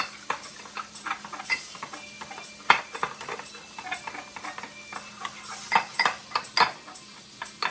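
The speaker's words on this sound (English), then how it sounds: "You stir it until it makes a little paste" A utensil scrapes and taps against a pan while cornstarch is stirred into a shrimp and pineapple stir fry, making irregular close clicks and clinks over a quiet background with no talking.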